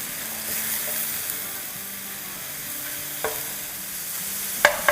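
Spice mixture of chilli, onion powder and salt being stirred in a hot pan, a steady sizzle with scraping stir strokes and a couple of sharper clanks near the end, no talking.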